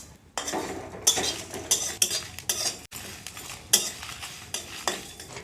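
Whole coriander, cumin, fennel and five-spice seeds are dry-roasted and stirred in a dry pan, with a metal spoon scraping and clinking against the pan in irregular strokes.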